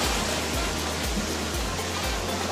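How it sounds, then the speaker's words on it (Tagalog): Steady rushing sea water noise with a low rhythmic thumping underneath, waves slapping against a moving boat on fairly large swells, loud and continuous. "Ayan, medyo malaki yung alon."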